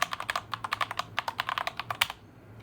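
Someone types a sudo password on a computer keyboard, a quick run of about twenty close, crisp key clicks in an uneven rhythm. The typing ends after roughly two seconds and no voices are heard.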